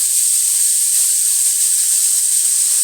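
Beto saag greens hit hot oil with black cumin and dried red chillies in a pan, producing a loud, continuous, dense hiss of steam that stays even and unbroken throughout.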